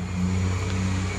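A second-generation Chevy Nova's engine drones steadily nearby with a low, constant hum, passing close by without talk.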